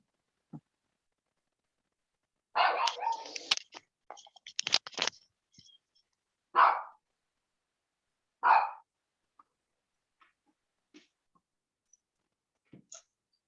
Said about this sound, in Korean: 강아지 소리.